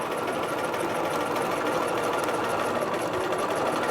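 A sewing machine runs long gathering stitches around fabric for a Butterick 4743 garment, its motor whirring in one steady, unbroken stitching run, close and even throughout.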